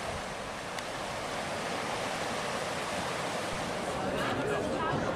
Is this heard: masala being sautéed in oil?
no